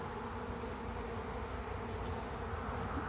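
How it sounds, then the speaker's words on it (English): Honey bees buzz steadily on a hive frame where a caged queen with a screen sits, a dense continuous hum close by and unbroken for the whole stretch. "you see the bees are on there taking care of her."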